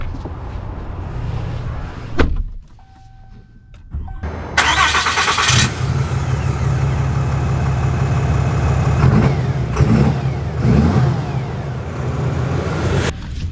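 A 2024 Ram HD LongHorn pickup truck engine cranks and fires after a quiet pause, then settles into a loud, steady idle with a few blips of revving, close by with no talking.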